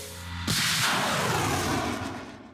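A sudden loud blast at about half a second, followed by a sustained roaring whoosh that slowly fades, as a HIMARS rocket launcher fires nearby.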